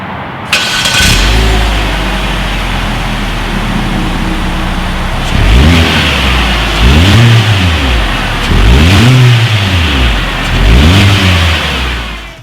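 A 2017 Chevrolet Spark with a single exhaust outlet starts up and idles, then revs four times in an even rhythm, each rise and fall clear and loud, recorded close at the rear with no talking.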